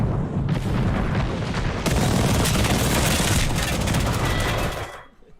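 Video game airstrike: a dense, continuous barrage of loud explosions and rapid gunfire-like blasts roaring without a break for about five seconds, then cutting off abruptly into near silence.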